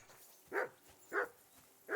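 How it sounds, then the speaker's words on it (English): A dog in Kingdom Come Deliverance 2 gives three short barks at an even pace, fairly quiet and slightly distant, over a low background with no talk. "Can you get your dog to shut its beak?"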